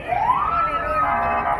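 A loud, close police siren wails, its tone sweeping upward then holding a high pitch, with traffic noise underneath at a busy highway.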